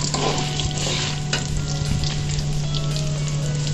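Field bean lentils fry with fried gram in hot oil for a mint puffed rice snack, giving a loud, continuous close sizzle with occasional stirring scrapes and no voices.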